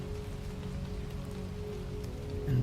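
Steady rain drums on a cabin during a storm, a dense, even patter close by that holds at one level throughout, with no voices.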